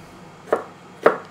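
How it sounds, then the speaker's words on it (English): A knife chops peppers finely on a cutting board: two crisp, isolated strikes about half a second apart in an otherwise quiet room. "I'm just going to cut a little bit finer for my stir fries"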